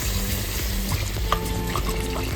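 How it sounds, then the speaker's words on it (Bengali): Chicken curry meat sautés in a large pan, giving a dense, steady sizzle with scraping stirs and occasional metallic clinks close by, and no talking over it. "মাংস খুব সুন্দর করে কষানো হয়ে গেছে।"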